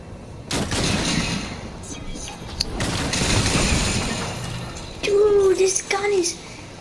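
A gun fires in a video game in loud, sustained mechanical bursts with a rattling, ratchet-like edge, followed by a shorter, sharper volley near the end.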